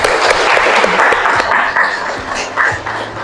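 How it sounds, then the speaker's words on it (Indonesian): A classroom gives a student a short round of applause, dense clapping from many hands that swells and then tapers off over about three seconds, heard close and fairly loud. "Kita kasih aplaus buat Mbak Ayu."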